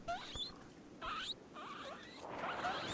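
Squeaky rodent squeals and chirps from boom rats fighting guinea pigs in RimWorld, a few short, faint bursts spread across a quiet background.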